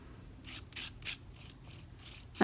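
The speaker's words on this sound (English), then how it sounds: "I'm just going to hold my stencil down and trowel this on." A paint trowel scrapes paint across a stencil in a series of about six short rasping strokes, close and fairly quiet, followed by a brief knock at the end.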